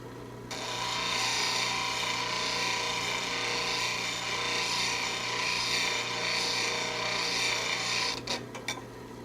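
A skew lathe chisel held against a grinding wheel, a steady, close abrasive rasp that runs unbroken for about eight seconds over the hum of the grinder motor, then stops with a few brief scrapes.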